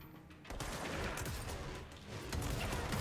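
A gun fires in the video game Control, giving rapid bursts of gunfire and impacts in a dense, noisy clatter with brief lulls between volleys.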